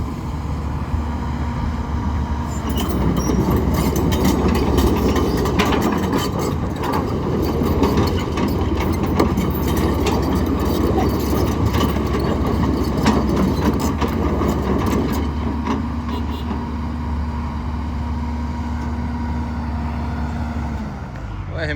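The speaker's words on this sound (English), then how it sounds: "Such a quiet engine." Kobelco 210 excavator with Hino engine idling, a steady low diesel hum with mechanical clatter and ratcheting that grows busier through the middle before settling back to a smooth idle.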